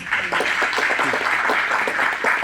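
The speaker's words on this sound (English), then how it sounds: "Can we go ahead and give them a round of applause" An audience at an apprenticeship conference applauds its panelists, a continuous, moderately loud rush of clapping hands with no break across the brief span.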